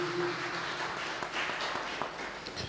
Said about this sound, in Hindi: जोरदार तालियां प्रभु की महान उपस्थिति के लिए